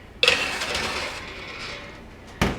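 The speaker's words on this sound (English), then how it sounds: "we're going to come over to our oven that's preheated at 400 degrees and just put it in there" A baking pan slid into an oven preheated to 400 degrees, with a sharp metallic clank, a brief scraping slide, and a second clunk as the door shuts, close and loud.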